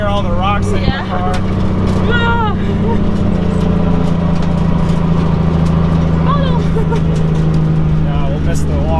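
A 1JZ-swapped Datsun 280Z engine holds a steady high idle with a constant low drone, while people talk over it throughout.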